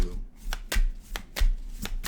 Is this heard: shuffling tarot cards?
yes